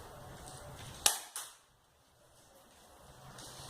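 A single sharp airsoft gun shot snaps out, followed a moment later by a fainter second click, over a low steady background hiss with no talking.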